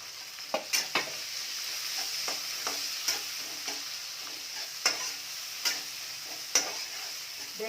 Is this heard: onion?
yes